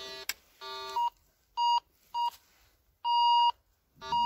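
A metal detector gives repeated beeping tones over buried metal pipe: a short blip, then four clear loud pulses of uneven length, one long, ending in a broken burst, each tone standing alone without talk.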